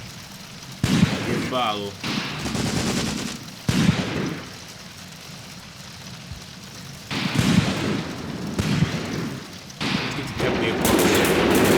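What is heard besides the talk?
mortar and artillery fire in the video game Graviteam Tactics: Mius Front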